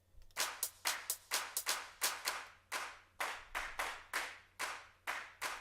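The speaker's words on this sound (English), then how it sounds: "Kind of a 909 clap, so you double them up." 909-style drum machine clap samples from Logic's Drum Kit Designer in an electro house track, about fourteen sharp, bright claps in a steady rhythm, each with a short decaying tail, loud and alone with no talking.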